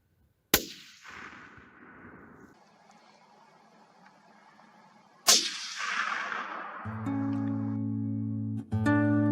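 A .300 or .338 Winchester Magnum hunting rifle fires outdoors, with two sharp loud shots a few seconds apart, each trailing off in a rolling echo, followed by quiet talk and a low hum.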